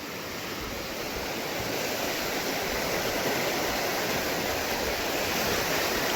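A loud, constant roar of rushing floodwater from the Krishna River fills the scene, dense and unbroken like a torrent in flood.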